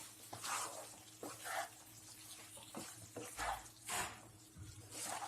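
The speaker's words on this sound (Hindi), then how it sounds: "आखिर में हम इसमें फ्राई किए हुए अंडे डाल देते हैं। इन्हें अच्छे से मिक्स कर लें इस सॉस के साथ।" Fried eggs being stirred into a sizzling spicy sauce in a pan for Egg 65, with soft scraping strokes and steady low sizzle in bursts, close and moderately quiet, no talking.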